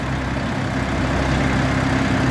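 A Jinma 244 mini tractor engine with a creeper gearbox idles steadily and close by, a continuous low rumble with no voices over it.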